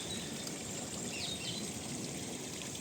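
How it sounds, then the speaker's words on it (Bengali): Water falling from a man-made reservoir into a small outdoor fish pond makes a steady, even rush and trickle, with faint birdsong in the background. "এই একটা জলাধার ওরা তৈরি করেছে, যেখান থেকে জলটা এসে পড়ছে এখানে।"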